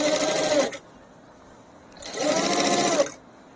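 A sewing machine stitches a child's lehenga in two quick bursts of rapid, rattling needle strokes, close by, with a short quiet pause between them.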